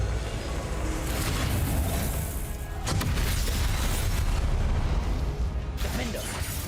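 Confringo fire-blast spells in Hogwarts Legacy going off as dense booming bursts over a roaring wash of game noise, with a sharp crack near the middle and another toward the end.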